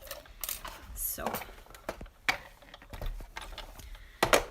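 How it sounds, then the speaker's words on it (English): Paper being die cut in a die cutting machine during a stamping and crafting session, a series of sharp clicks, rustles and handling knocks, irregular and close, with light background noise. "So as I am die cutting like this"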